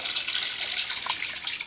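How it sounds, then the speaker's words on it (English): Water poured in steadily to simulate rainwater for a sump pump alarm test: a continuous, close hissing splash of running water with no breaks, moderately loud and heard alone. "this is simulating rainwater pouring in"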